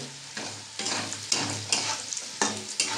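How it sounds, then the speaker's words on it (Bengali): Pointed gourd and jackfruit seeds cooking in a frying pan with a little water are stirred with repeated scraping strokes over a soft, continuous sizzle, close and fairly quiet, with no voices. "এবার দেখো বন্ধুরা, আমি একটু নেড়ে নেব"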